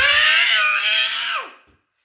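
A child's high, strained cry imitating a tiger's roar, held loud for over a second and then trailing down and cutting off, close to the listener.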